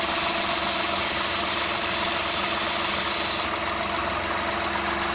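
Car engine idling with a vacuum leak, a steady close mechanical hum with a constant hiss layered on top that eases slightly partway through, no voices.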